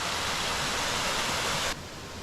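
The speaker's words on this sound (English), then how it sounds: "That is Twisted Knee Falls." Steady broadband roar of Twisted Knee Falls in the Arkansas wilderness on a cold, rainy day, close and loud, cutting off abruptly near the end into quieter hiss.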